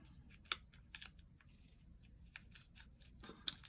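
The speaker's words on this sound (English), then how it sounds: "that little heart, I'm going to just cut here." Scissors snip a small paper heart in a quiet room, giving a few faint, close cuts with light rustling between them and no speech.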